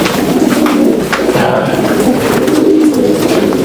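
Racing pigeons coo in low, throaty, overlapping calls, close and loud as they are loaded into baskets before a 430-mile race, with a few soft rustles in between.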